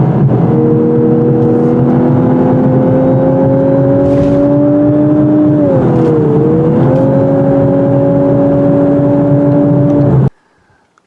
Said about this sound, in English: I'd rather listen to this exhaust sound than the music anyway.